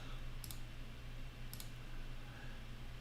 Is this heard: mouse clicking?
yes